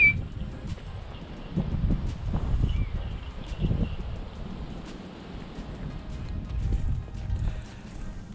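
Gusty wind rumbling low and steady through a big open valley, rising and falling in broad surges, with faint rustling and scattered small clicks on top.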